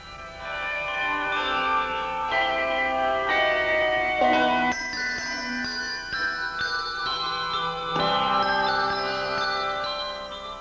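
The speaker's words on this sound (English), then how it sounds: "This bell choir performed last year during the holiday season at the White House." A handbell choir rings a sustained, melodic passage, many bright overlapping tones blending and decaying together at steady volume.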